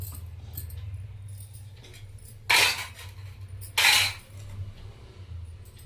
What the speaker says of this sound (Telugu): ఇప్పుడు తాలింపు వేస్తాను.